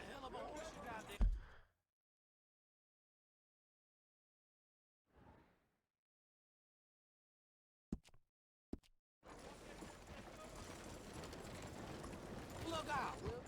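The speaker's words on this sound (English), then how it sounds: "That's a hell of a horse you got there." Horse hooves clip-clopping in the video game Red Dead Redemption 2, a short burst of steps followed by a quiet gap, then sparse knocks and a steady stretch of movement under speech.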